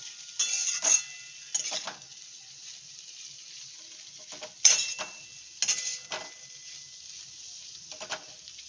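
A cauliflower and potato fry is stirred in a pan, with a few bursts of scraping and sizzling strokes separated by quieter gaps of low frying hiss, near and alone.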